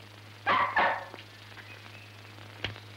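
A dog barks twice in quick succession at close range, followed by a fainter single yip a couple of seconds later, with a steady low hum underneath and no talking.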